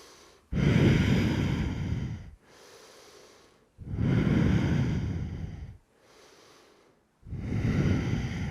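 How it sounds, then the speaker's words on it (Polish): Slow, deep breaths during a third-trimester prenatal yoga exercise come close to the mic: three long airy exhalations, each followed by a soft, quiet inhale. "Kiedy jesteś z tyłu, rób sobie wydech, a kiedy z przodu, wdech."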